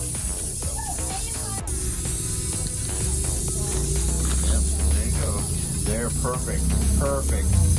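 A spray can hisses steadily as a coat of paint goes onto a DIY Jurassic Park Jeep Power Wheels ride-on, with people talking over the spraying throughout.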